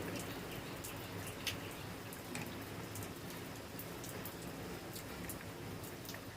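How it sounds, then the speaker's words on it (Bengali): Pakoras deep frying in hot oil until golden, a steady fizzing crackle with scattered sharp pops, close and low in level, with no voices. "পকোড়াগুলো সুন্দর করে গোল্ডেন ফ্রাই করে ভেজে নিতে হবে।"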